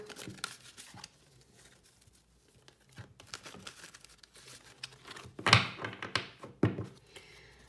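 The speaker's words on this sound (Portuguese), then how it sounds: "Vai ser uma coisa menor, mas vamos aqui também baralhar." Oracle cards being shuffled by hand: quiet papery riffles, slides and soft taps in irregular bursts, growing busier and louder toward the end with a couple of sharper snaps.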